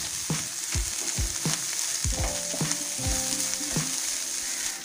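Chicken kachori filling with garam masala fries in a pan while being stirred, a constant sizzle broken by rhythmic spatula scrapes and knocks.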